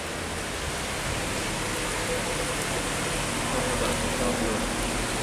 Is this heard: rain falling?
yes